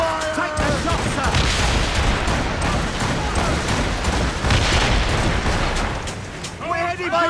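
Ship cannons firing in a naval battle in Assassin's Creed Rogue, a dense continuous roar of booming volleys and explosions, loud and close, with shouted crew voices at the start and end.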